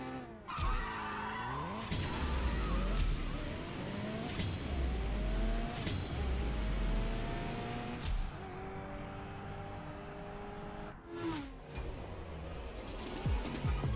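Mini Cooper racing in the mobile game CSR2, with tire squeals, revving engine and quick gear-shift sweeps repeating over about fourteen seconds at moderate volume, no talk.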